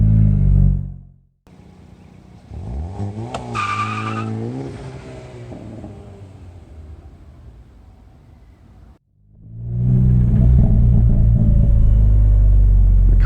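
A Hyundai Veloster N engine revs hard and loud during a reverse burnout, tires squealing and rumbling, cutting out briefly before roaring up again.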